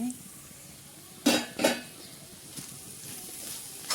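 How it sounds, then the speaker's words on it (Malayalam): Wild bitter gourd thoran is stirred in a pan, two distinct close scraping clatters of a spoon against metal followed by a couple of fainter scrapes over quiet background. "ഇനി ഇത് നല്ലതായിട്ടൊന്ന് ഇളക്കി നല്ലതായിട്ടൊന്ന് തോർത്തിയെടുത്താൽ മാത്രം മതി"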